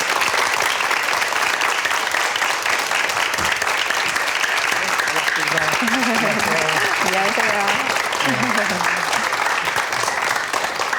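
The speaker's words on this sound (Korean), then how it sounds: "박수로 맞아주십시오." A television studio audience gives sustained, loud applause to welcome an author guest on a book programme, while a voice speaks a short greeting over the clapping.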